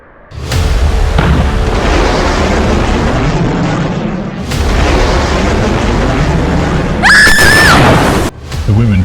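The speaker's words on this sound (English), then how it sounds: "The women fire the rocket launcher and it makes a direct hit on the column." A rocket launcher round slams into a column in a loud, sustained blast, with rumbling debris filling most of the scene, a brief lull, then a second surge overlaid by a high-pitched scream before an abrupt cutoff.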